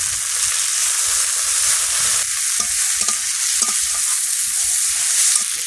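Chopped tomatoes hit browned, frying onions in a pan, giving a steady, loud sizzle with scraping stirs and a few sharper clinks, and no talking.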